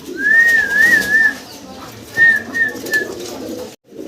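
Fancy pigeons coo nearby in soft, rolling phrases, one run of calls followed by a shorter second one over a quiet room.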